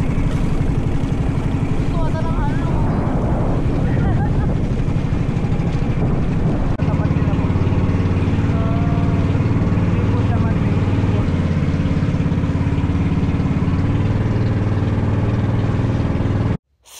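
A motorboat engine drones loudly and steadily on a boat ride at Puerto Galera, with wind buffeting the microphone, while voices can be heard faintly under the roar.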